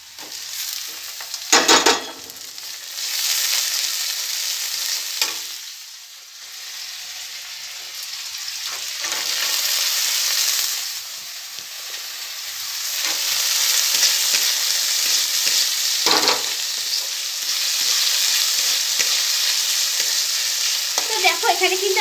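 Potatoes fry in a pan for a fenugreek-leaf dish. A steady hiss runs throughout, broken by occasional scraping stirs and sharper clinks, with no talk.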